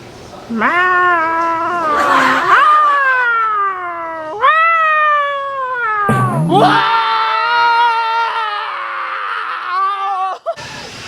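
Cats fight with long, wavering caterwauls and yowling meows that rise and fall in pitch. The cries are loud and close, broken by brief screeches and short pauses.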